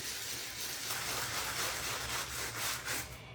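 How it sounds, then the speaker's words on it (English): Steady rough scratching and rubbing as a sanding block roughs up paper, a broadband abrasive sound with a rhythmic back-and-forth pulse, close and moderately loud. "I am going to take my sanding block and I'm just gonna kind of rough this up"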